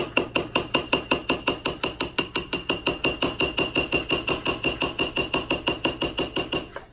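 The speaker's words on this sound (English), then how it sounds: "So I'm simply going to take a hammer at this point." A hammer taps the side of a gold ring down while it is being sized up with added gold, striking in a fast, even rhythm of sharp close metallic taps, roughly six per second throughout.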